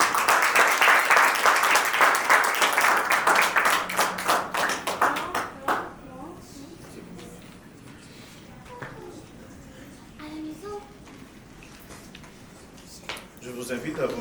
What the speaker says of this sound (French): je vais inviter le célébrant, le Père Calix, à s'approcher sur vos applaudissements aussi, s'il vous plaît.